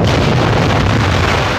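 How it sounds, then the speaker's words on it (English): A loud, booming cartoon cannon explosion from a Tom and Jerry cartoon, with a rumbling burst that fills the whole moment. "We see Tom get blown up with the cannon"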